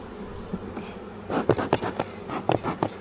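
Honeybees around a sick hive buzz in short, overlapping bursts close by, the droning swelling and fading in quick pulses.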